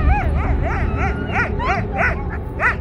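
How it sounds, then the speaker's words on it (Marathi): A dog whimpers and yelps in pain as a story sound effect, with a rapid series of about eight high, wavering cries over a few seconds. The cries are loud and close, with no talking. "कुत्रा वेदनेने विव्हळू लागला."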